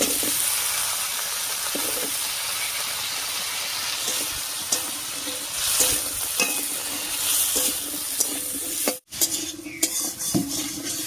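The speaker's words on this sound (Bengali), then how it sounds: "ফোড়নের উপরে কোয়াশ আর আলুটা দিয়ে একটু নাড়িয়ে নিয়েছি" Squash and potato pieces frying in spiced oil with chopped onion, a steady sizzle and hiss with repeated spoon scrapes and clinks against the pan as they are stirred, close up and without talk.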